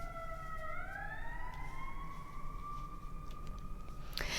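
A loud emergency-vehicle siren sweeps past on the road, its wailing tone rising and holding steady close by for several seconds over a constant rumble of traffic, with no talking.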